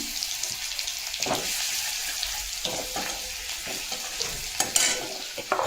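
Potatoes fry with cumin in a pan as garlic goes in, giving a bright continuous sizzle with intermittent stirring scrapes, close and steady throughout without speech.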